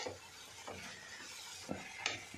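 Shepu bhaji, dill greens, stirred in a pan with a spoon, giving soft repeated scraping strokes in a steady rhythm with a faint sizzle underneath, quiet and close.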